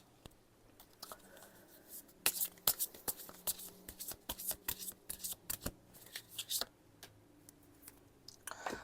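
Tarot cards being shuffled and drawn for a reading, with soft, close, irregular flicks and riffling snaps that come in quick clusters. The card sounds are fairly faint and grow busier after the first couple of seconds.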